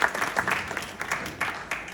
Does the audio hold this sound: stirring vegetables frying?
no